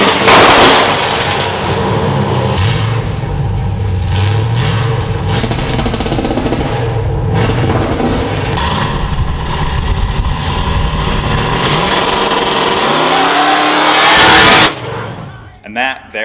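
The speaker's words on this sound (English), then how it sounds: "we actually have 2 remote cutouts that dump right after the headers. So this thing gets really noisy, loud, rowdy." A 1000HP Hummer H2 with a 408 stroker, Magnuson supercharger, open remote cutouts dumping after the headers and an MSD 2-step runs loud and rowdy, with sharp popping and revving, near and harsh, talk over it, before abruptly cutting off.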